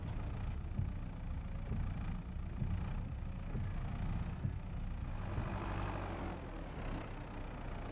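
A farm vehicle pulling a trailer drives along in Farming Simulator 22, its engine a steady, low, close rumble that holds at an even level throughout, with no one speaking.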